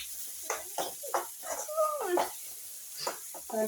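Onions fry in a pan while upma is being made, giving a soft, steady sizzle close by that runs under continuous talking.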